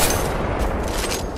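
Rapid gunfire in Apex Legends, a dense, loud burst of shots crackling continuously without pause, with no talking.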